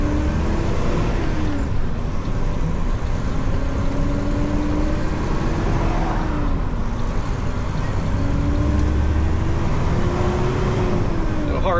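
A one-stack Mack truck engine drones loudly and steadily, its pitch rising and dipping as the driver works the clutch through gear changes, heard close from the cab.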